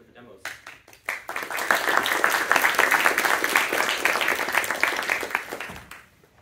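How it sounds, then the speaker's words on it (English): Audience applause for student projects at a 2023 projects showcase: a few scattered claps build quickly into loud, dense clapping that holds steady for several seconds, then tapers off near the end. "can I get another round of applause for our five projects?"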